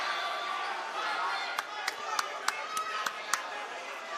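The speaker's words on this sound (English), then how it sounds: "So you hear the claps there from my partner." Several sharp hand claps from a courtside commentator's partner at a high school girls' basketball playoff game, about seven evenly spaced snaps standing out over steady gym crowd noise.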